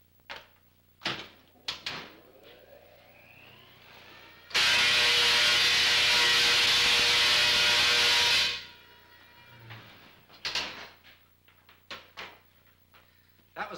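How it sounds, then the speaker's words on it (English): A million-volt, high-power high-frequency electrical discharge bursts out as a loud, sustained hissing roar lasting about four seconds, framed by quieter clicks and knocks before and after. "That was well over a million volts with a lot of power behind it."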